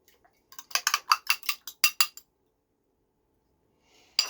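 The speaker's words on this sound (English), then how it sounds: "I'm just getting the butter around the pan. You can just use a fork is what I do." A fork scrapes and clinks against a pan as it spreads butter around, a quick run of about a dozen sharp metallic taps, then a pause and one more scrape at the end, with no talking.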